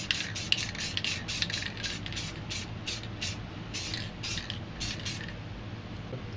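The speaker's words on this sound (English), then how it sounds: "I'm just going to spray this all black" Spray paint can hissing in short repeated bursts while black paint is applied to a spray-paint art picture of a nature scene, steady bursts close up, no talking.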